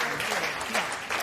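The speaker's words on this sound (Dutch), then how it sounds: "Dan krijgt u alle 4 applaus." Brief burst of audience applause at a sports debate among party leaders, steady clapping from a crowd in a hall, moderately loud and continuous.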